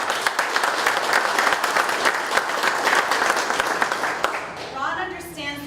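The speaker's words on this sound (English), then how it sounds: "You all deserve a round of applause." Audience applause for military veterans at a Florida political event, a dense steady clapping crowd sustained at full strength, then thinning out and fading in the final second.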